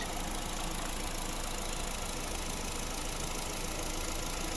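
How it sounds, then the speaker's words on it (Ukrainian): A Honda Civic hybrid engine idles with a steady, broadband hum, even throughout, with no revving or pauses and no voices. "Ось робота двигуна."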